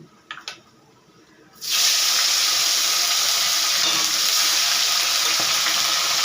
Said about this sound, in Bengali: ওই তেলের মধ্যে গোটা জিরে আর শুকনো লঙ্কা ফোড়ন দেব